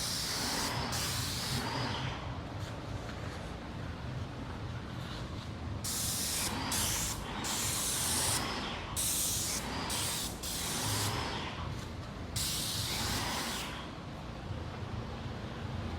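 Close, continuous hiss of an aerosol spray can, with several short bursts of brighter spraying in the middle and no talking.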